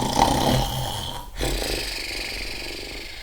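A storyteller's voice imitates a dog snoring in a children's bedtime tale: a loud, close, rumbling snore, then a brief pause and a longer, softer drawn-out snoring breath.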